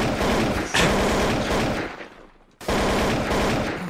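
Automatic AK rifle fire in the video game Trouble in Terrorist Town, loud sustained bursts with a brief pause near the end before the shooting resumes.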